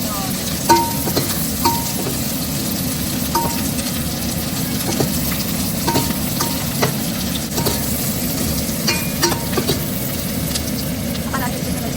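Onion fries in a pan after garlic for pinakbet, a continuous crackling sizzle with periodic clinks and scrapes of a utensil, close and fairly loud, while a voice talks lightly over it.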